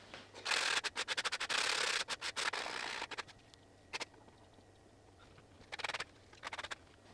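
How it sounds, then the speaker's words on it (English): Sandpaper, 60 grit, rasps against the edge of a bamboo board in bursts of quick strokes, pausing in between, then a few more short scrubs near the end. "I want to sand these edges so that they're smooth."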